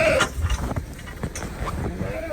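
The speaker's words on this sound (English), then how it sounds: "there are 22 sheep over here" Sheep bleating in a pitch-black barn at feeding time, about 22 animals crowding in; short bleats and shuffling come from close by against a steady background of movement.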